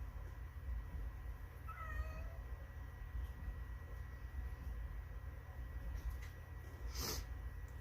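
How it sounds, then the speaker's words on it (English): A cat gives a short, faint meow with a falling pitch early on, over a low steady background hum and a brief noisy burst later. "And now she's going to meow, of course,"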